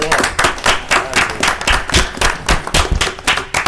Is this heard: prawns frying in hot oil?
no